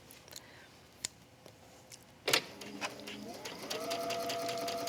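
A sewing machine stitches a ruffle onto a cork fabric pillow, starting with scattered clicks and a thump, then settling into a steady humming run near the end.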